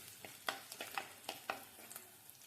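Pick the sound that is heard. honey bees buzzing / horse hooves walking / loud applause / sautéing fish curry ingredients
sautéing fish curry ingredients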